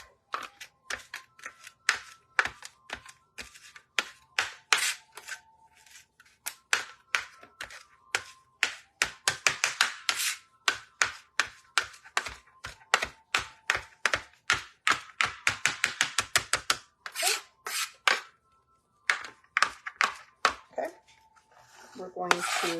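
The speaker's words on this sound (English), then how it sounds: "So I chop it one way, bring it together, chop it the other way" A knife chops cilantro on a cutting board in rapid, steady bursts of crisp taps and thunks, close and clear, with short pauses between rounds as the herbs are gathered and chopped again, for Baja-style fish and shrimp tacos.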